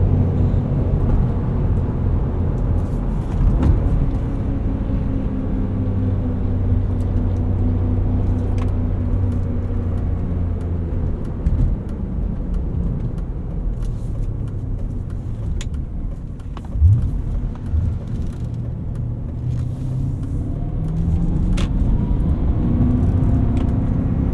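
A 2000 BMW M5 E39 accelerating in sport mode, heard from inside as a continuous low engine rumble whose pitch climbs and sags across gear changes, steady and fairly loud with no talking.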